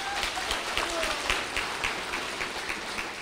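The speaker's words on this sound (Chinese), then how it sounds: "再给秘书长一个热烈的掌声" Applause for the secretary-general at a preparatory meeting of cabinet members and county magistrates: a fairly faint, steady patter of many hands clapping with distinct claps, heard at some distance in a room.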